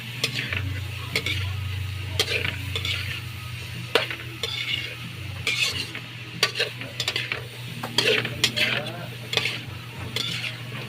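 A spoon stirs egg and sayote in a hot pan: steady sizzling under repeated scraping and clicking strokes against the metal, close and continuous, with a low hum in the background.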